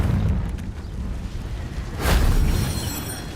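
A Confringo blasting spell from Hogwarts Legacy goes off with a sudden burst near the two-second mark, over a low, steady rumble of background noise.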